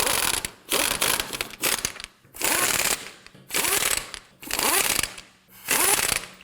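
Lug nuts being snugged down on a Nissan Murano wheel with a ratchet, five bursts of rapid clicking ratcheting separated by short pauses, close and fairly loud.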